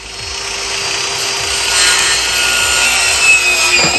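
A hand saw cuts through a piece of material for a wall repair, with steady back-and-forth strokes close up, running alone for about four seconds without any talk.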